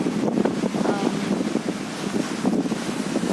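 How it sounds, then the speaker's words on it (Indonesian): Strong wind buffets the microphone in gusty, rumbling bursts that stay loud and close for the whole moment, with a voice faintly mixed in beneath. "karena anginnya terlalu kencang, jadi harus cari tempat yang"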